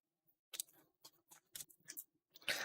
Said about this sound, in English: So we'll shuffle everything up.